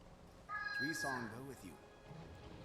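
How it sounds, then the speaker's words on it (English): A Maine Coon pet cat in Guild Wars 2 gives one drawn-out, wavering meow that sits clearly above soft background game ambience. "It's a Maine Coon type of cat."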